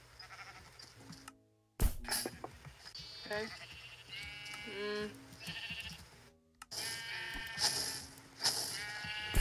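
Sheep bleat repeatedly in a blocky Minecraft-style game with a hat mod, the calls rising over game sounds and backing music while players talk nearby.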